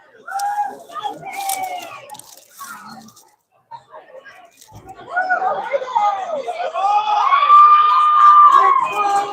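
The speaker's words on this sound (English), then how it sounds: "You hear the crowd there getting excited for the band" A high school football crowd at a Walton Braves vs Holmes County Blue Devils game cheers for the marching band on the field. Scattered shouts and chatter swell into sustained, excited cheering that grows louder toward the end.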